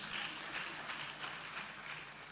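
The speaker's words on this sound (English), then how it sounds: "Please, a round of applause is in order." Audience applause at a live anniversary ceremony marking the return of King Prempeh I from exile, a dense steady wash of many hands clapping, sustained at even loudness throughout with no pauses.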